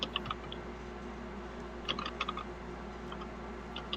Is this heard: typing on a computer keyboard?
yes